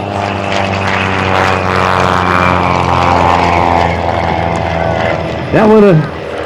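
Decathlon aerobatic plane making an inverted low pass below takeoff level at an airshow: a loud, steady propeller drone that swells as it passes near, with a brief pitch-shifting whine near the end and a crowd murmur underneath.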